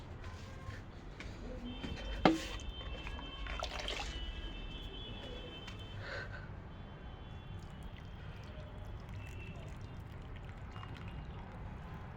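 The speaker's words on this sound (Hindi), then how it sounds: "सबसे पहले पानी डाल दे उसमें।" Water is poured into a freshly potted plant in a garden, a soft trickling pour with a brief sharp knock near the start, then a faint steady wash.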